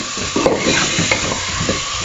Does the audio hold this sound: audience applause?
no